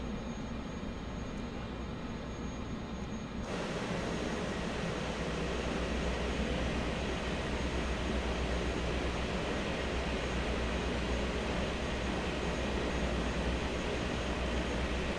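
A Cessna Grand Caravan in Microsoft Flight Simulator throttles up for takeoff, its steady turboprop drone and propeller roar jumping louder after a few seconds and holding strong and continuous to the end, with no voices.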